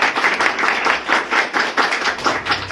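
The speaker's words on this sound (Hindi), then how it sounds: "जोरदार ताली दें।" A church congregation breaks into loud, sustained applause, dense overlapping claps with a rhythmic pulse that holds steady throughout, close and full with no talking over it.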